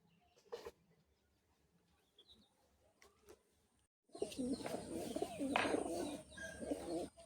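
Madrasi pigeons coo in a low, throaty rolling rhythm, faint and sparse at first, then a louder, closer burst of overlapping coos and wing rustle from several birds.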